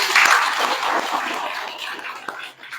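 An audience at a school climate change advocacy club event claps for the boys, a dense burst of applause that starts loud and gradually thins and fades over a few seconds.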